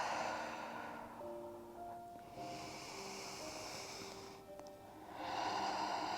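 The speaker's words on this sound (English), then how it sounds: "2 deep breaths" Slow deep breaths during a yoga stretch come as long airy inhales and exhales with soft hiss, separated by quieter pauses, while faint gentle background music plays underneath.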